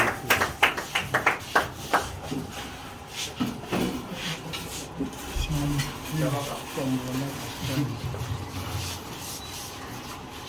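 Audience applause in a French-language event hall, a burst of dense claps up front that thins into scattered clapping, with people talking and murmuring underneath toward the end.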